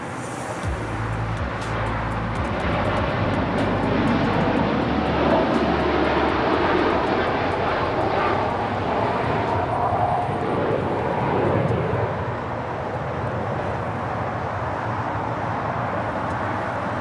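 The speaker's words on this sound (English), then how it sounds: "That was Air Tahiti Neri Flight 8, taking off to Paris on a 787-9 Dreamliner" An Air Tahiti Nui Boeing 787-9 Dreamliner takes off from LAX bound for Paris, a sustained loud jet roar with low rumble that peaks midway and eases slightly, with no voices over it.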